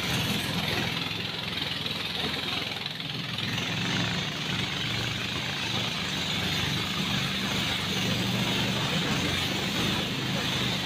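Boat engine labouring against a strong river current at Padmajhiri, a continuous dense mechanical drone and rumble that holds steady throughout without letting up.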